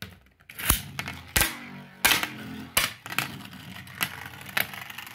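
A Hell Salamander Beyblade, a metal-assembled spinning top, clatters in a plastic arena: a string of sharp, loud clacks and knocks at irregular intervals over a steady whirring rattle, close by.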